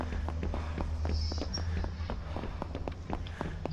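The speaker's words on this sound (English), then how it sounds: "I swear his footsteps are getting so loud." Heavy monster footsteps from the horror video game Project: Playtime thud in a steady walking rhythm, loud and close over a low droning ambience, with no talking.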